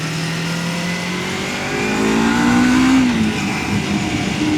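A 2021 Yamaha MT-25 motorcycle being ridden, its engine droning steadily and rising in pitch as it accelerates, with constant wind and road noise, close and loud throughout.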